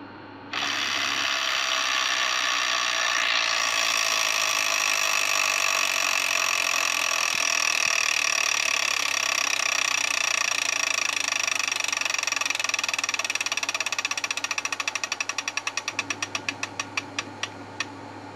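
Wheel spinning on a tabletop electronic Wheel of Fortune game: a steady, loud mechanical whirring drone for about fifteen seconds that breaks into rapid clicks, slowing and spacing out as the wheel comes to rest.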